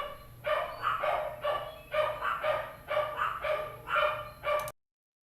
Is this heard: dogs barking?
yes